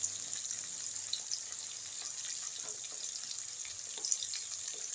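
Ginger garlic paste frying in a pan with capsicum, a soft steady sizzle with faint crackles and light clinks, quiet and close, no talking.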